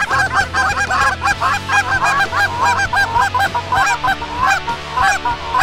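A flock of Canada geese honks repeatedly and loudly on a Saskatchewan goose hunt, with overlapping calls in quick bursts and a low rumble beneath.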